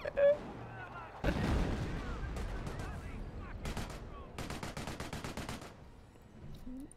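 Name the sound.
grenade explosion and gunfire in video game Company of Heroes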